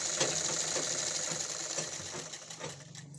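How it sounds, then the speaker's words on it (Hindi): A sewing machine stitches along fabric with a steady, fast mechanical chatter close by, running continuously and slowing slightly near the end, with no talking. "इसके मशीन के नीचे सिलाई लगा लो सफाई से"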